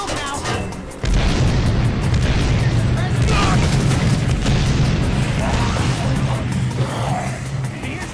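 A booming explosion in Dead Rising, the 2006 zombie game, hits after about a second and leaves a dense, sustained roar of rumble and debris, with a voice talking and shouting over it.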